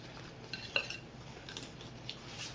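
Beer and flour batter being mixed in a bowl until smooth, a quiet run of clinking utensil taps and soft scraping with one sharper clink near the start, close and alone.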